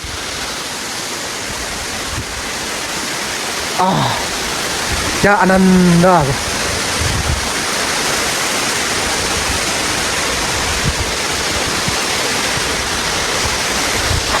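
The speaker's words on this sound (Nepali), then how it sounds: "त्यसमा एउटा वाटरफल पनि छ म देखाउन चाहेँ तपाईँहरूलाई" A waterfall near Taktsang (Tiger's Nest) in Bhutan roars as a loud, steady broadband rush throughout, with a person speaking briefly over it partway through.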